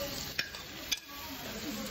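Pork gukbap bubbles and sizzles in a pot at a Busan restaurant. A steady, faint sizzling hiss is broken by two sharp metallic clinks of utensils against the pot.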